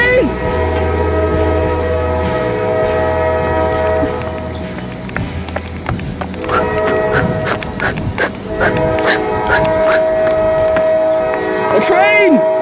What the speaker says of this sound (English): Dude, a train! A train!